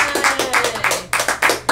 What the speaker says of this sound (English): Everyone give Jazzy a clap.